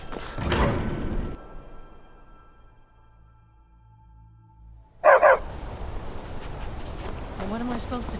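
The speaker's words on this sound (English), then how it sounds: "A war dog is good company and good protection." A war dog in Skyrim gives a short burst of loud barks near the end after a quiet stretch. Earlier there is muffled rustling and a steady low hum, and a voice speaks briefly afterward.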